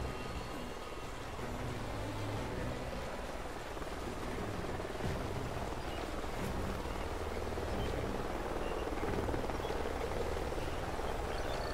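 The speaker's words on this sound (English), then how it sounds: "Sounds like a chopper's up ahead of us." A helicopter in the Call of Duty Ghosts video game drones steadily in a canyon setting, a continuous rotor-and-engine rumble at moderate distance that holds even throughout, with no talk over it.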